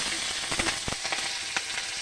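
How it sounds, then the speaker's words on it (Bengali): Slit green chillies dropped into hot oil for a Bengali fish curry tempering, giving a loud, dense sizzle and hiss with bright crackles and pops, close and continuous. "ফোড়ন দিচ্ছি, ফোড়নে কাঁচা লঙ্কা দিয়ে দিলাম"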